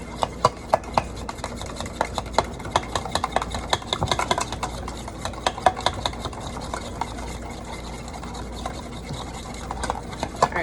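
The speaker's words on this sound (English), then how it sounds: "I'm going to be stirring my macaroni as I go" A spoon stirs macaroni in a pot with a quick, irregular run of taps and knocks against the metal. The clatter is close and fairly quiet and carries on throughout, with no talking.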